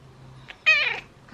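A single clear cat meow, short and mid-pitched, rises out of near silence and fades within about a third of a second.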